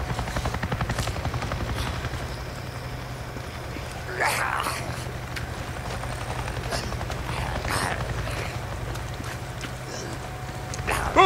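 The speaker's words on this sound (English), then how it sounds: "I just saw a goddamn chopper!" A helicopter in the video game Days Gone flies overhead with a steady, loud rotor chop that holds through the whole stretch, its pitch and intensity shifting slightly as it passes.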